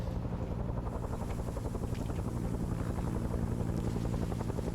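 Helicopter in a Vietnam War video game, its rotor chopping steadily and loudly throughout with no talk.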